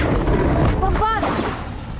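A Bombarda blasting spell explodes in Hogwarts Legacy, a dense rumbling blast that fills the whole two seconds, with a voice briefly heard over it.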